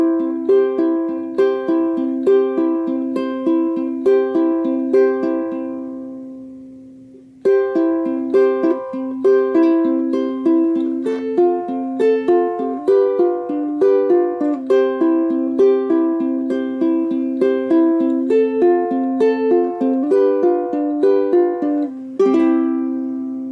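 Plucked ukulele fingerpicking pattern with thumb and ring finger striking together, each finger on its own string, repeating steady arpeggiated notes close up with a brief pause near the middle, no talking.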